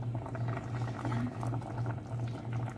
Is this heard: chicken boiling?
yes